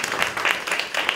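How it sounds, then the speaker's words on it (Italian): Brief burst of close, brisk clapping from a small audience welcoming an artist at an award ceremony in a gallery. "facciamole un bellissimo applauso"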